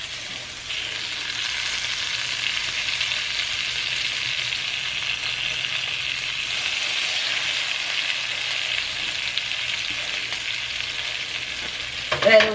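Maryland-style crab cakes frying in butter in a pan give a steady, even hiss of sizzling, close and unbroken, with a brief clatter right at the end.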